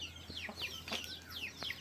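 A broiler chicken clucks outdoors in a short run of several close, sharp calls with brief gaps, over a faint steady background hum.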